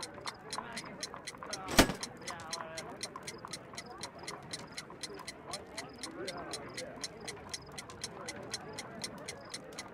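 Regular steady ticking from a homemade alarm-clock bomb with wires attached to its bell and hammer, crisp repeated clicks running under continuous talk, with one sharp louder knock early on.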